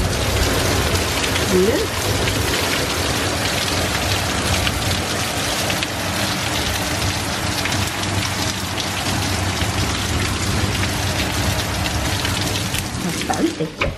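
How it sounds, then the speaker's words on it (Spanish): A heavy rain downpour pours steadily and loudly on surfaces outdoors for the whole stretch, a dense unbroken hiss. Someone speaks briefly under it. "Está el diluvio. ¿Cómo está lloviendo?"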